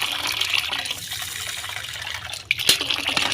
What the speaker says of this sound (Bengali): তো চলো কলটাকে একটু লাগাই।